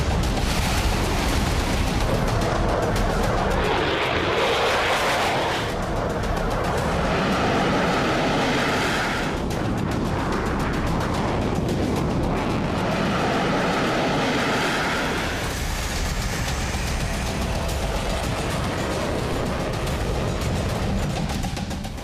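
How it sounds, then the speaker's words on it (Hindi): American fighter jets roar overhead in a loud, sustained wash of broadband noise that swells and fades in passes, with bursts resembling distant gunfire, no speech. "आसमान में गरजते अमेरिकी फाइटर जेट।"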